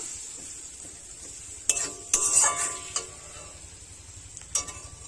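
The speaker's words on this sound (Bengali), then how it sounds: "আরও এক মিনিট খুব ভালোভাবে নাড়াচাড়া করে নেব" Food being stirred in a cooking pan with turmeric powder and salt, a low steady sizzle under a few distinct metallic scrapes and clinks of the spoon against the pan.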